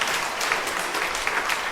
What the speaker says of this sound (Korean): 우리 박수로 축하해 주시기 바랍니다.